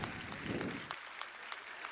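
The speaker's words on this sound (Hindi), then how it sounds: "तालियों के माध्यम से अभिनंदन" An audience claps at a state-level award ceremony and assistive-equipment distribution held on World Disability Day. The applause is faint and distant, a thin patter of scattered claps that thins out toward the end.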